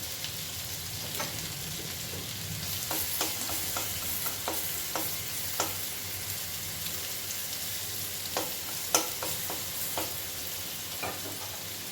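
Garlic paste sizzling in oil beside fish heads (hilsa) in a pan, a continuous bright hiss broken by scattered sharp pops and spatters.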